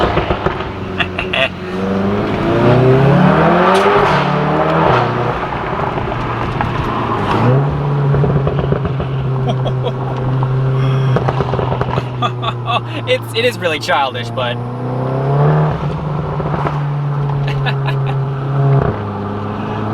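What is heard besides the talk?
Volkswagen Golf R exhaust pops and bangs in sport mode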